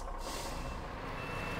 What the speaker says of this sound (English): we're going to reverse our way out of here safely without tipping the truck